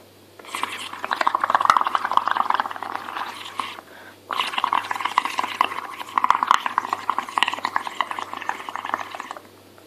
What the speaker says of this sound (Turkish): suyun içine üflüyorsunuz